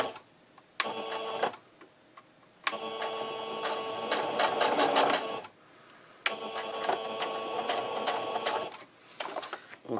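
A sewing machine stitches the corner of a homemade terry cloth sponge, running in three bursts of rapid mechanical stitching separated by short pauses, close and clear with no talk.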